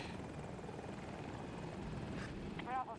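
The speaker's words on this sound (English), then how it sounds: "Let me just spawn as a helicopter pilot really quick." Helicopter flying in a video game, a steady rotor drone with whirring engine noise, fairly loud and continuous, with a brief rising whine near the end.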